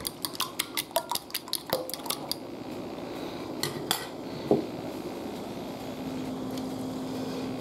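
Eggs whisked up in a pan, a quick run of rhythmic metallic clicks from a utensil striking the pan that stops after a couple of seconds, then a low steady kitchen hum with a few stray clinks.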